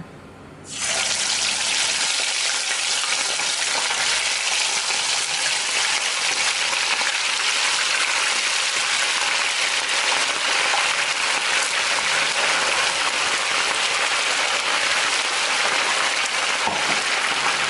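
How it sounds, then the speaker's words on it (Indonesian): Marinated chicken pieces hit hot frying oil after a brief quiet moment, then a loud, dense sizzle holds steady and close for the rest of the stretch, with no voices. "kalau ayamnya sudah selesai dimarinasi, kita langsung aja goreng"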